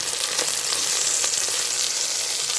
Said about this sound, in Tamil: இந்த வெங்காயத்தை நல்லா வதக்கிக்கிறோம்